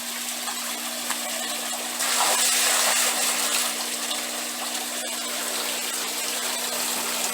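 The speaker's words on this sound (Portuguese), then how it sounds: "Então eu vou pegar o balde aqui e jogar ali no sando." A bucket of copper sulfate solution is poured into an aquaponics sump: a steady background hum and water flow, then a louder rushing gush for about two seconds before settling back to a constant trickle.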